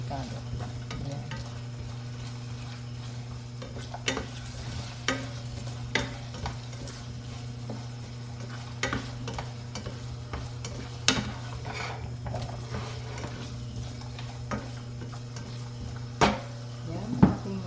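Potatoes are stirred and half-cooked in a frying pan, with a steady sizzle and hum broken by the occasional clink of a utensil against the pan.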